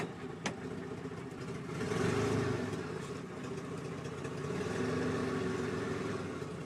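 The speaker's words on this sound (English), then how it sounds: "Okay, so I got the truck started." A '93 Chevy pickup truck engine runs steadily at a low idle with a broadband rumble, swelling slightly a couple of times as if revving lightly, with a brief knock near the start.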